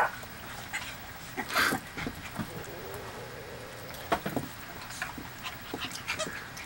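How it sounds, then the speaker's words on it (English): Puppies playing together, with repeated close whimpers, pants and short growly yelps in an uneven, scrappy rhythm. "This is puppy play."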